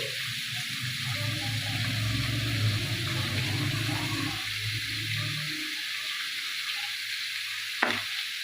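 Steady hiss of Malabar spinach frying in a pan with turmeric, with soft stirring scrapes and low clatter, ending with a brief clink.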